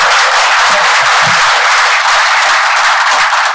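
Dense, continuous applause from a live audience at a business coaching seminar, steady and loud throughout with no pauses, and a faint murmur of voices underneath.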